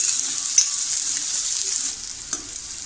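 Onion is sautéed in a pan over a low gas flame for Maharashtrian pithla, making a close, steady, gentle sizzle with a couple of light spatula taps.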